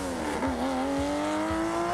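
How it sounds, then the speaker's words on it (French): Rally car engine at a historic Corsica tour event, revving high toward 9000 rpm with a rising, sustained wail that climbs steadily in pitch, loud and close with no talk. "les gens adorent le son de cette voiture puisque son moteur qui monte et qui hurle jusqu'à 9000 tours"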